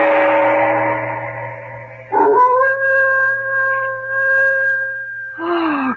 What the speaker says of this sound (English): No sound can be heard but the ominous howling of a dog.